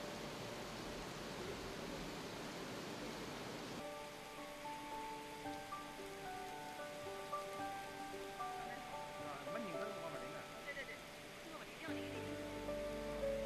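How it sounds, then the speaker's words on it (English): Artificial rain pours steadily in the Rain Room art installation in Shanghai, a continuous hiss of falling water under a low hum, joined partway through by sustained musical tones. "to be immersed you need to have enough rain around you to have that experience"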